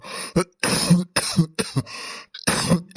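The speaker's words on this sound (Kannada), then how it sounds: "ಅಯ್ಯಯ್ಯ ಅದೆಷ್ಟು ಕೆಮ್ತೀರಿ ಕ್ಯಾಕರ್ಸ್ತಿರಿ" A man coughs and clears his throat repeatedly in a harsh, hacking series of bursts with short gaps, close and loud, with no other voices.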